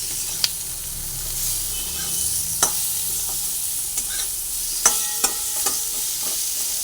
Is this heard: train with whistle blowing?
no